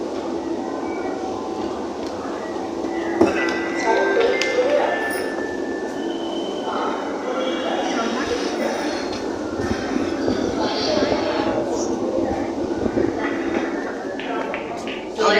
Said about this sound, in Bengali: এই যে আমরা এখন মেট্রোতে যাচ্ছি মেট্রো চলছে পল্লবী স্টেশন পার হচ্ছে